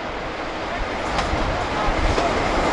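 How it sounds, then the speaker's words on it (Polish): A train arriving at a station, a steady low rumble and rolling rail noise that swells slightly, with a couple of faint high squeals, fairly close and without talking. "A tu w międzyczasie pociąg przyjeżdżał."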